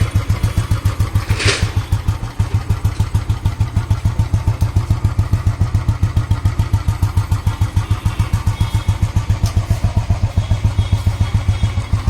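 A 2009 Royal Enfield Bullet Electra motorcycle engine idles steadily with a rapid, uneven thumping beat, close by and loud throughout, with a brief metallic rattle early on.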